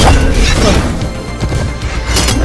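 Explosions and hard impact crashes from the platform fighting game Brawlhalla, loud and dense, with several bursts and smashes running together over a steady game soundtrack.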